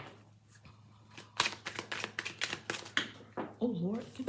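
Tarot cards being shuffled by hand, a run of quick papery riffling bursts at close range with a steady faint hum beneath, and a voice speaking briefly near the end.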